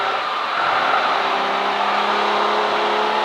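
A V12 race car howls around Silverstone during a modern and future classics race meeting, a loud, sustained engine note held close with a rising tone.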